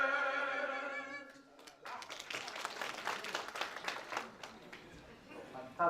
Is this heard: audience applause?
yes